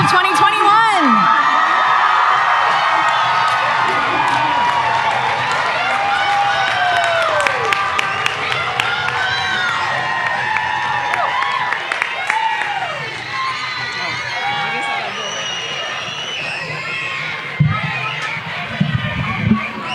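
A graduation crowd at the 2021 Cabarrus-Kannapolis Early College High School ceremony applauds and cheers steadily, with scattered whoops and shouts over a dense wash of clapping and voices, and a few louder bursts near the end.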